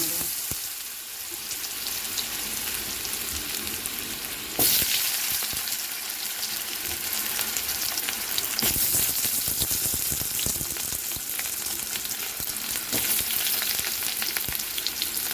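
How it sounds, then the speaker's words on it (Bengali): Potatoes fry with salt and turmeric in the oil left from frying lentil cakes. A loud, continuous sizzle runs throughout, with a couple of brief stirring clatters. "ওই ধোকা ভাজার তেলেই আলু, নুন হলুদ দিয়ে আলু ভেজে নেব।"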